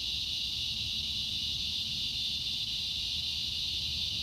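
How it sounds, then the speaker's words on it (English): Cicadas drone in a loud, steady, unbroken high buzz outdoors near a tiger enclosure, filling the whole stretch with no pauses and no voices. "Those cicadas are loud, huh?"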